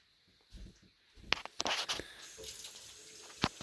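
Tap water runs and splashes into a sink as a child rinses soil-covered hands after gardening, with irregular splashing bursts and a few sharp drips, fairly close and otherwise alone.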